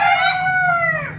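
A golden rooster crows loud and close in one sustained call, tapering off at the end.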